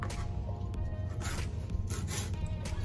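Knife slicing through a stack of dark and light green cabbage leaves on a board, a steady run of close, crisp rasping cuts with no talk.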